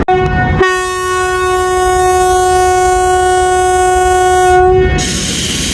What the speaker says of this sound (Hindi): Initial departure whistle.